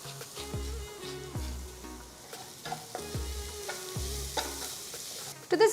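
Vegetables with capsicum stir-fried over a high flame, a close steady sizzle broken by repeated scraping and tossing strokes of the spatula in the pan, with a louder clatter at the end.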